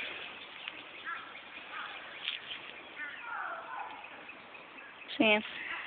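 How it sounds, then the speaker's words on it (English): Ducks at a pond quack faintly in the distance amid quiet outdoor background noise, ending in one louder, closer burst of quacking. "if you guys want to see some ducks"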